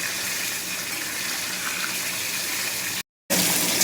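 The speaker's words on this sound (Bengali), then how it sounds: "সোয়াবিন আলুর তরকারিটা করছি, এবারে জল দিয়ে দেবো।" Water poured into a soybean and potato curry, a steady, close gushing pour that cuts out briefly near the end and then resumes, with no talking.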